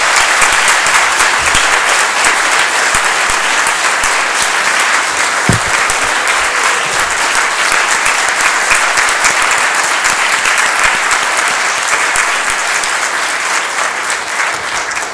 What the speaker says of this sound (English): It's okay to applaud here for the chief.